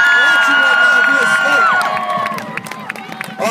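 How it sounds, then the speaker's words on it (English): An audience at a Torch of Life organ donor relay event claps and cheers for a guest, with whoops and voices rising over the applause before it thins out toward the end. "give her a round of applause one more time"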